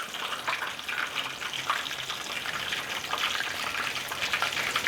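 Panko-coated lamb riblets deep frying in hot oil give a steady, soft sizzle and fine crackle, even and moderately quiet, with no voices.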